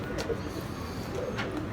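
Domestic pigeons in a loft cooing, low soft coos repeating over steady background noise.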